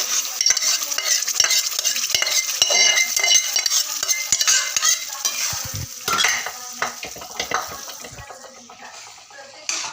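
Pav bhaji paste fries in a hot tempering, a dense crackling sizzle with busy spoon stirring and scraping against the pan throughout, loud and close, easing slightly toward the end.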